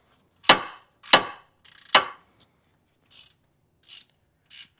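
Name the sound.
ratchet loosening bolt on Lexus RX330 AC bracket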